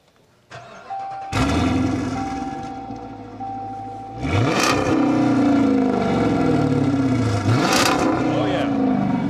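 A Dodge Charger police car with a Hemi V8 and some exhaust resonators removed cranks and fires up, settling into a loud, rumbling idle with two sharp revs, heard close and alone.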